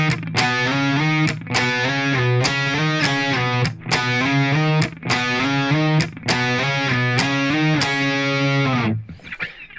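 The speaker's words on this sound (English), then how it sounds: "So it's gonna open with this octave swipe riff that's gonna sound like this." A distorted electric guitar plays an octave swipe riff from a song, in drop tuning, with loud chopped chords in a driving repeated pattern, short gaps between phrases and a final chord ringing out into noise.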